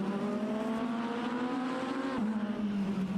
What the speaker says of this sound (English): Slower class car ahead. I hear him.